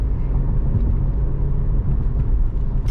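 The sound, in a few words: 2009 Mercedes C300 4Matic driving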